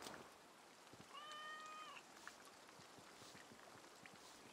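A cat meows once in the Assassin's Creed Valhalla video game, a short tonal cry over quiet ambient game sound with faint soft ticks and a low background wash.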